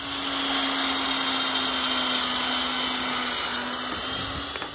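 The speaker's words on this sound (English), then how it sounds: "crafts her own combination of elderberry herbs, grinding them into fine particles" A grinding machine whirs steadily as it mills elderberry herb blend into fine particles for tea bag production, a constant motorized drone with a faint tone running underneath and no talking.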